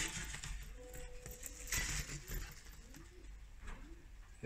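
Baska pigeons coo in a coop, with repeated low burbling calls in a steady rhythm from several birds, close and fairly quiet against a faint background hum.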